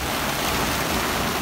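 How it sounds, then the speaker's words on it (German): Heavy rain falls as a dense, even hiss of water that sounds close and steady, with no gaps or voices. "Es regnet"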